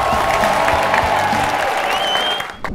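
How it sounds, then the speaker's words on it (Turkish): A crowd applauds during a trophy celebration at a Tonguç Cup season final, a loud, continuous roar of clapping that fades near the end, with some voices mixed in. "Tonguç Cup ikinci sezon finalini kutluyoruz alkışlarla arkadaşlar"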